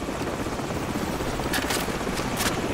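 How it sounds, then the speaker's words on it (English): Helicopter in the video game Call of Duty 4: Modern Warfare, a continuous rotor thrum at moderate distance with a brief louder swell of blade chop, with no talk over it. "Hold on, the helicopter's back."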